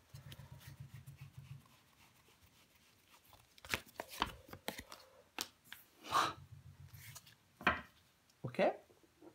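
Tarot cards being handled and laid out on a table, heard as soft shuffling, sliding and tapping in scattered close bursts over a quiet background.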